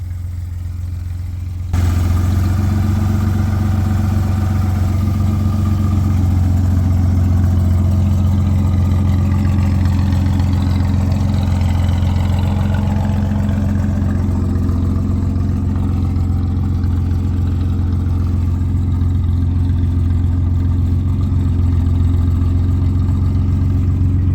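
A Dodge D100 pickup engine starts and then runs steadily near the microphone, a loud low idle with slight variations in pitch that holds for over twenty seconds with no talk.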